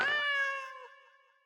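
A person imitates a cat with a single drawn-out meow, clear and close, fading out over about a second and a half.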